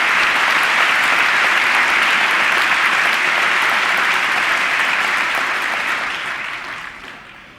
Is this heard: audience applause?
yes